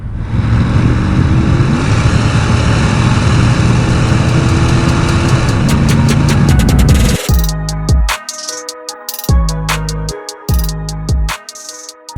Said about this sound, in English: Exhaust does have a DynoMax muffler on it. Sounds good going down the road.